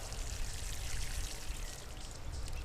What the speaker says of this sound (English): And I'm going to water it in generously.